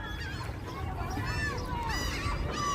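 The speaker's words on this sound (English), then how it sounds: "Wow, these seagulls are pretty loud here." Seagulls calling loudly on the Coney Island boardwalk in Brooklyn, a dense overlapping chorus of squawks and cries over steady outdoor crowd and wind noise.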